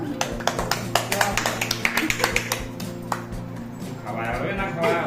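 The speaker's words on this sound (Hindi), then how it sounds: "ताली बजाओ।" Hands clap at a family birthday celebration held together with Raksha Bandhan at home: a steady run of bright, close claps over about three seconds, under talking voices and background music, then fading into chatter.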